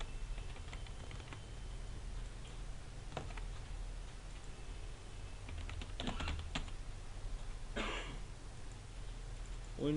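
JavaScript code is typed on a computer keyboard as quiet, irregular keystroke clicks, with a few denser bursts of taps toward the second half.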